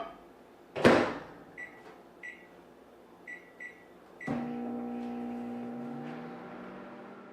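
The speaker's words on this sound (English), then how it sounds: "Put it into the microwave for 2 to 3 minutes." A microwave oven used to cook oatmeal: the door shuts with a clunk, several short keypad beeps follow, and then the steady electric hum of the oven running, fairly close and with no talking.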